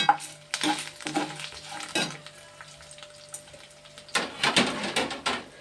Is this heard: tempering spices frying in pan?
yes